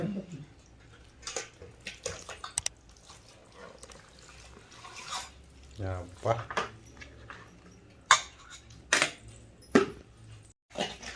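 Mango avakaya pickle being mixed by hand or spoon in a bowl, close up, with irregular wet squelches, scrapes and sharp clinks against the bowl spread unevenly over several seconds.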